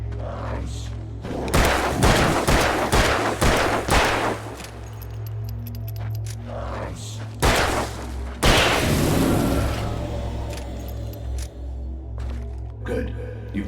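Gun blasts in the video game Alan Wake, several loud booming shots spread over the stretch with ringing tails, under a dark musical drone and a game character's voice.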